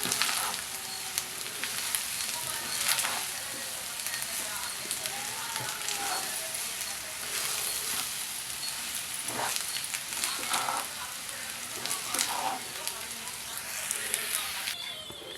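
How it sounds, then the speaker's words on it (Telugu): Sesame-spiced rice with mango is stirred in a pan on the stove, giving a close, steady sizzle with scraping strokes throughout. "ఇప్పుడు ఇదంతా బాగా మిక్స్ చేసుకుందాం"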